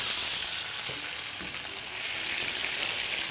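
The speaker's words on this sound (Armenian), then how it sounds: "Ծնեբեկը կտապակենք։" Asparagus pieces fry in a pan, giving a steady, close, loud sizzle with crackling that carries on without a break and with no voices.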